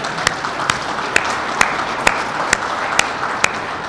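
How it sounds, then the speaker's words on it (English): An audience applauds at the opening of a union vaccine site in Chicago. A steady wash of crowd clapping is punctuated by sharp, evenly spaced rhythmic claps about twice a second. "You can clap for that."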